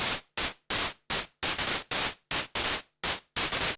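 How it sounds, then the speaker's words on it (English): Short bursts of harsh synthesizer white noise, used as hi-hats in Ableton, about ten in a row, each starting sharply and fading quickly, with brief silences between. "So we're getting kind of bursts of white noise there."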